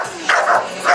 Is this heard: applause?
no